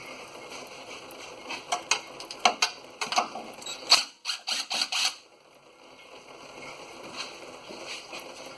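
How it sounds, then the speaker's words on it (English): Bolts being removed from the transmission pan of a 1995 Chevy 1500 pickup, a run of quick metallic ratchet clicks and clatter up close, then quieter background shuffling. "I'll continue to take a couple bolts out"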